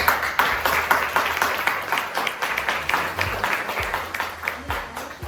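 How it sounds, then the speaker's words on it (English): A small group claps for themselves at the close of a career guidance session, a steady patter of hands with a few sharper claps, mixed with low murmuring voices throughout. "clap for yourselves"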